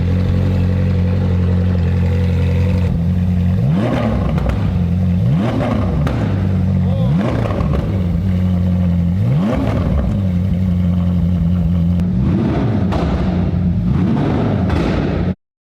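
A Ferrari 458 V8 with no rear silencer is blipped repeatedly, about six sharp, loud revs rising and falling over a deep idle, close and without speech, with crackles on the overrun.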